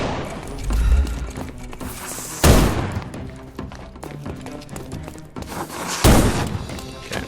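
Gunfire in Sherlock Holmes: Chapter One comes as a few heavy, booming shots spaced apart, with thuds and clatter between them and a busy game soundscape underneath.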